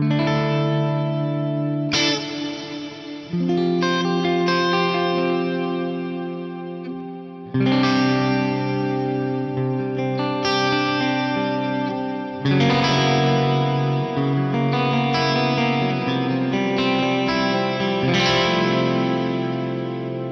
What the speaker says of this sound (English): This is just a gorgeous sounding reverb, kind of brings to mind the old school lexicon units.